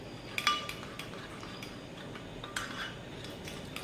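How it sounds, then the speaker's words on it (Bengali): A utensil clinks against a bowl while a thin batter of cornflour, flour, salt and water is stirred. Light scattered metallic taps and faint sloshing come through close by, with no talking. "এবার জল দিয়ে এটা ভালো করে একটা ব্যাটার বানিয়ে নেব।"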